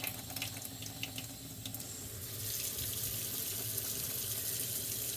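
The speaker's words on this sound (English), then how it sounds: "I'm washing my hands for 20 seconds." Hands being washed under a running kitchen tap, a steady hiss of water splashing into the sink that grows slightly louder and fuller partway through, close and continuous with no voices.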